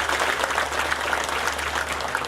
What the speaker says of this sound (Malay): Patik mohon izin kita bagi tepukan gemuruh yang paling kuat ke bawah kepada ke bawah duli tuanku.